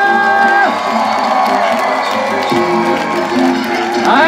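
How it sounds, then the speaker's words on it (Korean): A crowd cheers, whoops and claps loudly at an outdoor b-boy breakdancing festival awards announcement on Nodeul Island in Seoul, a continuous roar of shouting and applause close by with some voices rising above it. "항상 박수 질러!"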